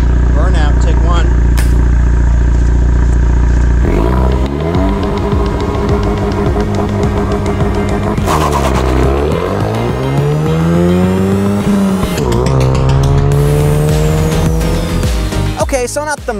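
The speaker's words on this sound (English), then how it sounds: "Burnout, take one." A 2022 Ford Mustang EcoBoost with a manual gearbox does a burnout, its engine revving loud and close and climbing in pitch while the tires squeal in long, wavering sweeps.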